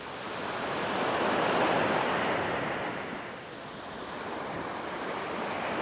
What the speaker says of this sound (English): I just love the sound of those waves.